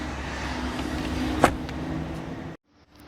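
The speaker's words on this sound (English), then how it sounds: "Open up the full power liftgate of the Mulsanne" A 2014 Bentley Mulsanne's power-operated rear opening runs with a steady close motor hum and a single click partway through, then cuts off abruptly into near silence.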